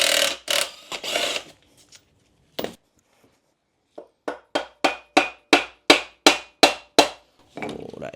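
A tool clacks rapidly on the axle nut of a Honda Grom motorbike, a quick run of about a dozen sharp, evenly spaced ratchet clicks, preceded by a few louder separate knocks and scrapes.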